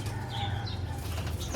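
Pigeons beat their wings and take off nearby, a fluttering rush of flapping followed by a sharp burst of wing noise near the end, with no voices.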